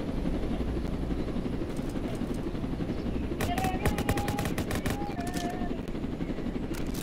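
Rapid gunfire in the Roblox Jailbreak game crackles over a constant helicopter rotor roar, with a dense volley of shots and whistling tones toward the middle, fairly loud throughout.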